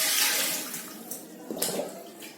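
Water pours from a small pot into a steel pot in a short, close splashing stream that tapers off, with a brief second splash near the end.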